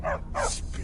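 A dog gives two quick barks close by, short sharp yips over a low steady hum, with no talking.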